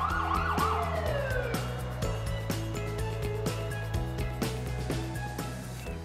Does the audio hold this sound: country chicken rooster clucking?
no